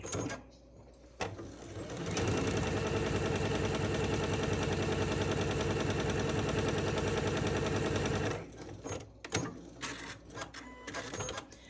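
A sewing machine stitches a quarter-inch seam on a Churn Dash quilt block. The rapid, even motor whir runs loud and unbroken for about six seconds, framed by quieter handling noises before and after.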